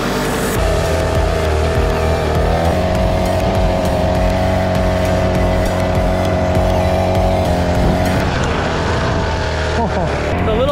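A 50cc pocket bike engine revs steadily and loudly during a ride on a slick lakeside path, with a continuous buzzing drone and shifting pitch. A voice speaks over it at times.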